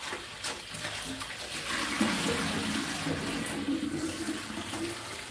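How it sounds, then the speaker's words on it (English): Water runs steadily from a tap into a sink during a quick rinse, a continuous splashing rush that swells slightly partway through, with no clear speech. "Give them a quick rinse."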